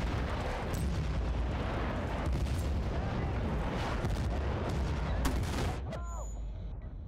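Continuous gunfire from a favorite weapon in the shooter game Battlefield: Bad Company 2, with dense, rapid shots and booming impacts rolling together for about six seconds before dropping away into quieter game sounds.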